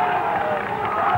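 Roadside crowd cheering and clapping for race walker Maurizio Damilano as he nears the Olympic stadium in Rome during the 1987 World Championships 20 km walk, a dense roar under a commentator's voice.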